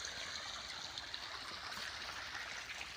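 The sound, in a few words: water flowing from a motor pump into rice fields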